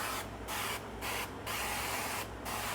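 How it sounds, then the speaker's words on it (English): Four short hissing bursts from an avocado oil aerosol spray can, evenly spaced, close and fairly loud, with a faint hum in the background. "This is an avocado oil spray that I really like."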